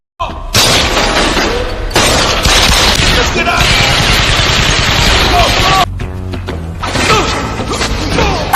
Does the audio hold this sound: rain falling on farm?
no